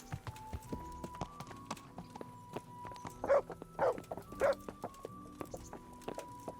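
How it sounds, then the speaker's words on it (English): Dogs bark in Kingdom Come: Deliverance: three short, loud barks arrive in quick succession midway, over the steady clip-clop of a horse's hooves and footsteps, with no talking. "Oh, you got doggies too. You got 2 doggies."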